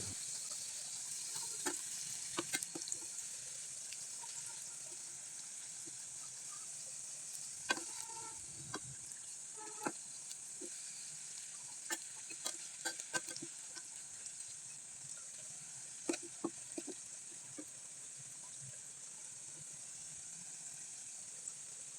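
Palm-flavored patisapta pitha fries in hot oil with a continuous soft, even hiss and a scattering of small pops and utensil clicks, heard alone without talk.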